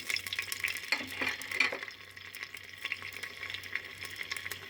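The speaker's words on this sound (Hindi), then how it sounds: "प्याज, उस वक्त तक फ्राई करेंगे जब तक के लाइट गोल्डन कलर ना आ जाए" Onions frying in oil until light golden, a low continuous sizzle broken by several bright stirring scrapes and clinks early on, then a quieter steady fry.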